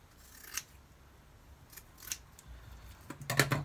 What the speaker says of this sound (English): Well, I'm going to quickly cut another square.